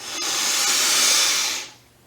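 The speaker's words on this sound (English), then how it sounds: "Breathing in through the nose." A long, steady airy rush of breath drawn in for about a second and a half, close up, then fading away. No one speaks.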